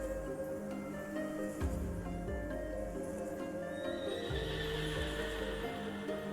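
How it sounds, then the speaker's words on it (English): A horse neighs in the Honkai: Star Rail game, a clear whinny standing out over a dense, steady bed of game music and ambience, with a hint of clip-clopping hooves. "I just heard a horse."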